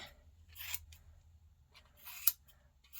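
Scissors trimming a yarn pom-pom close up, two short bursts of snipping with a sharp click at the second cut and no talking.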